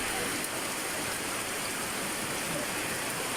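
Heavy rain pours steadily on a farm after days of rain, a dense, continuous hiss that fills the whole short stretch without a break.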